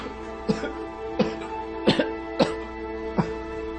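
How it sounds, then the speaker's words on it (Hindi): A man coughs in a drama scene, five or six short, sharp bursts spaced about half a second apart, close and distinct over a quiet indoor background. "ऐसी खांसी आ गई जरा।"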